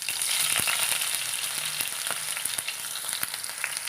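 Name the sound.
mustard seeds and ginger frying in oil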